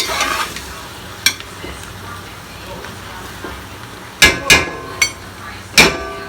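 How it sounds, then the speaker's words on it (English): Smothered cabbage simmering down in a half-full pot is stirred, with soft bubbling under several sharp clanks and scrapes of a utensil against the pot, spaced irregularly and loudest toward the end. "You're stirring that."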